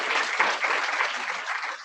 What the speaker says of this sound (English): A better round of applause for Mr.